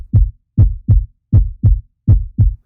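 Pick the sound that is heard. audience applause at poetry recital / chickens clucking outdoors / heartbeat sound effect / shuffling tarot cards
heartbeat sound effect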